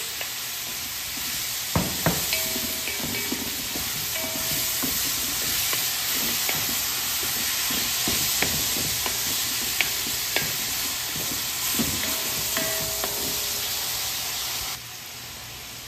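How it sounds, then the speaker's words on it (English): Fresh tomatoes hitting a hot pan with Italian sausage for pasta, a steady broadband sizzle running throughout with scattered clicks and scrapes of stirring, close and moderately loud. "We add the fresh tomatoes"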